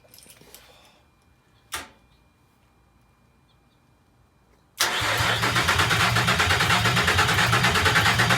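A Nissan Xterra race truck engine cranks and fires up at once, settling into a loud, steady rumbling idle after a brief quiet stretch with a single sharp clack.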